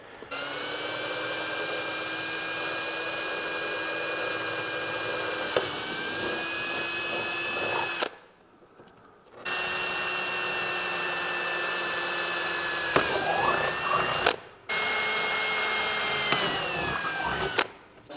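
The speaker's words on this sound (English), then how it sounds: "a 3/8 inch drill bit, just a twist drill bit, and they just say go for it, just drill it" A high-pitched power drill with a 3/8 inch twist bit whines steadily in three long bursts, stopping briefly between them, close and loud with no talking.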